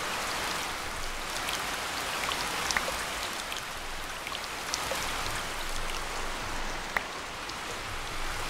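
Rain in the video game Heavens of Sorcery pours as a steady, dense hiss with scattered droplet ticks, continuous and fairly loud throughout with no speech.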